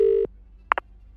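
A steady telephone tone cuts off, then two quick dialing beeps sound from a public phone booth, close and clear with nothing else in the background.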